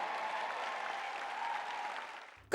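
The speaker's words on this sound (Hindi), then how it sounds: "का आप गौर करे हो कि कैसे सबो जना ताली बजाइस?" Steady applause from a church audience at a sermon, a broad even wash of clapping that fades toward the end before a sudden loud burst cuts in.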